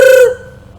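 A single electronic telephone ring tone sounds loud and close in a short burst, then cuts off abruptly and leaves a faint low hum.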